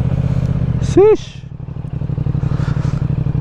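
A CF Moto 450SRS motorcycle with a 270-degree crankshaft idles with a steady, throbbing low pulse, close by, outdoors at a mall in the Philippines, while someone speaks briefly over it.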